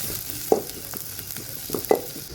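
An onion frying in a pan with fennel seeds for a goat liver fry, giving a steady soft sizzle with two sharper stirring scrapes, close and alone with no talk.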